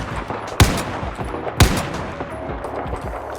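Two sharp recon sniper rifle shots from the video game Battlefield 4, about a second apart, each a loud crack with a short tail over steady in-game ambience.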